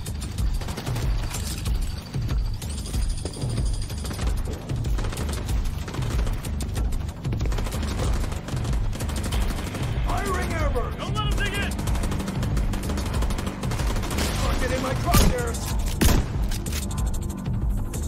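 Rapid gunfire from The Division 2 on Xbox One, dense bursts and shots running almost nonstop over a loud mix of game effects, with a louder crack or explosion near the end.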